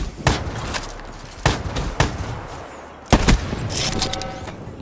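Gunfire from a trickshot in the video game Black Ops 3: four sharp, loud shots spaced irregularly across the clip, each with a brief ringing tail, over a quiet game background.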